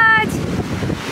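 A stormy sea beside moored yachts gives steady roaring wind buffeting the microphone and churning waves, loud and close, with a brief tone at the start.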